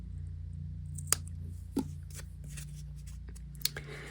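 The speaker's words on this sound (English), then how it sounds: "I'm trying to cut with these ridiculous little scissors" Small scissors snipping through a paper bag, a few sharp isolated cuts and crinkles spaced seconds apart against a quiet low hum, close and fairly faint.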